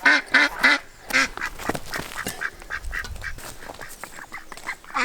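Ducks on a garden homestead, worked up and being let out into the garden, quack loudly and repeatedly in overlapping, excited bursts, close by and continuous, with no talking.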